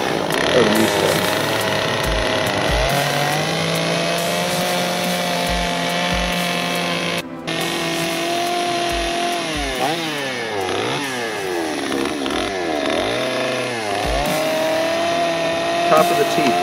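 A chainsaw carves a wooden skull, its engine droning steadily with revving surges and pitch swoops as it digs toward the eye socket, close and loud, with a brief cut-out midway.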